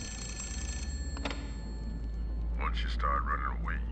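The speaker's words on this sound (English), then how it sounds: "And now the phone will ring." A telephone rings inside the video game The Suffering, a short electronic trill heard over a steady low game hum, followed by a voice speaking.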